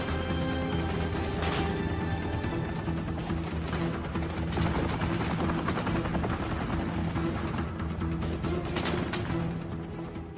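A military UH-60 Black Hawk helicopter hovers while ropes are thrown down, its steady rotor beat and engine roar filling the scene, with scattered impacts and commotion mixed in.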